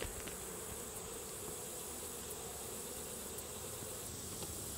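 Honey bees buzzing around a hive frame holding laying worker brood and nectar, a dense, steady drone of many insects close by with no voices.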